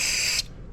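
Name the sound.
spraying mass airflow sensor cleaner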